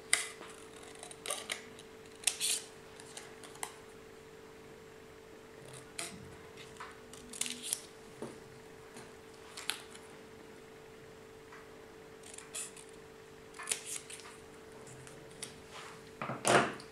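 Scissors snipping through paper cut-outs for a homemade potion mini-game, short crisp cuts in irregular clusters over a faint steady hum, close and quiet.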